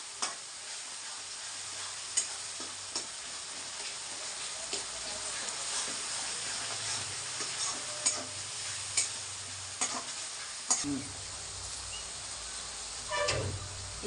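Andhra fish curry masala is stirred in a pan, a continuous close frying sizzle with soft scrapes and occasional ladle taps against the metal recurring every second or two.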